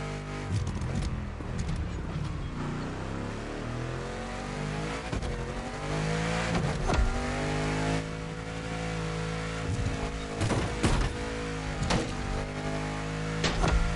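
A GT supercar in the video game The Crew Motorfest, its engine revving and shifting through rising and falling tones, loud and close, with sharp bursts and hints of tire noise.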